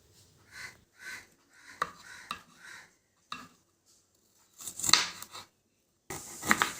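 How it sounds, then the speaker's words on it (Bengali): A kitchen knife chops onion on a board for a fish egg Manchurian chilli dish, giving irregular bursts of quick cutting taps separated by short pauses, close and fairly quiet with no voices. "আর কিছু পেঁয়াজ এইভাবে করে কেটে নিতে হবে।"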